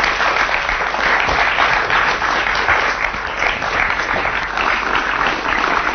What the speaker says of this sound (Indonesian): Kita tepuk tangan buat narasumber kita.